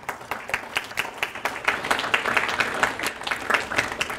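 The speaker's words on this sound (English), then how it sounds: "Now you're clapping" An audience at a poetry reading claps in a warm, uneven burst of many hands, with sharp individual claps rising through the middle and holding to the end at close range.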